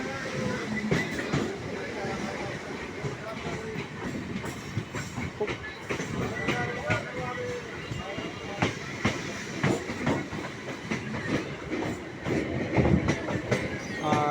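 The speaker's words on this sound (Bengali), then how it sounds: "দেখুন এর মধ্যে আরেকটি ট্রেন আসছে।" A train rolls into Sealdah railway station in Kolkata, with steady rumbling and repeated clickety-clack of wheels over rail joints, heard nearby for a long stretch amid general station bustle.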